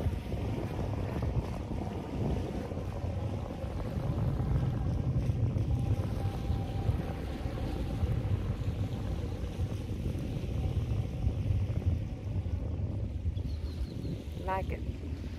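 Wind buffets a boat out on the sea off Cancun in a steady broadband rush, with low rumbling water beneath it and faint voices in the background. A brief chirping sound appears near the end.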